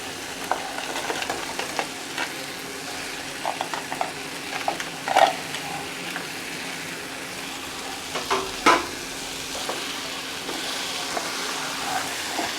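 Crab frying in a pan of sautéed onion and tomato for crab curry: a continuous soft sizzle with scattered clacks and scrapes of stirring, one louder knock midway, no talking.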